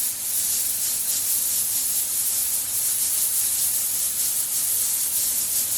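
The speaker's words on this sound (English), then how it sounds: "pull my trigger back just a tiny little bit and literally just start shaking the airbrush" An airbrush sprays onto paper while being shaken, giving a constant close hiss of air that stays even and unbroken throughout, with faint pulsing from the shaking.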